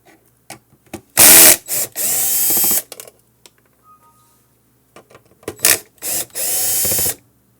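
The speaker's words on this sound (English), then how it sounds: "have to open these 4 screws" A powered screwdriver backs out the four screws on a ClearCom V-Series intercom panel in several short, loud whirring bursts separated by quiet pauses and faint handling clicks.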